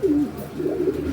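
A blue barless male Lahori pigeon coos close by, giving a short, low, throaty warbling call that rises and falls over about a second.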